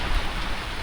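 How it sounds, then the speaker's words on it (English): Rain falls steadily on a building site in a village near Lusaka, a dense, even hiss with no breaks and no voices. "Let's hope the rains will disappear soon."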